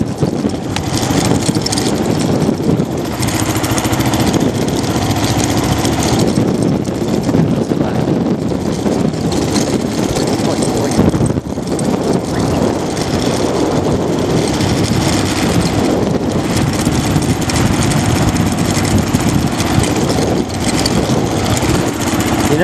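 Engine of a somewhat beat-up Kawasaki KLR650 motorcycle while riding on a mountain road toward Georgetown Reservoir in Colorado, a steady broadband drone mixed with wind rush that continues without a break throughout.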